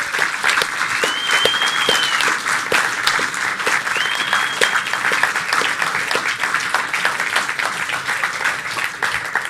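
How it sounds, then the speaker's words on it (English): A large crowd at a startup competition final applauds steadily and loudly, sustained clapping filling the whole stretch with a few whoops rising above it. "give all of our teams a huge round of applause"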